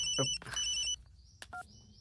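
A telephone rings in a short electronic trill, with tonal beeps starting and stopping over roughly two seconds, fairly faint against a quiet indoor background.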